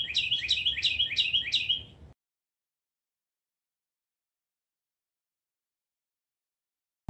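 Small birds chirp outdoors in quick repeated high tweets for about two seconds, then silence follows.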